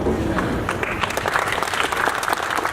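An audience at a police rally claps in sustained, dense applause that stays steady and fairly loud throughout, with faint voices beneath it.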